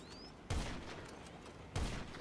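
Two sharp gunshots fired in a video game, spaced about a second apart, each a loud abrupt crack over steady background noise, with no talking.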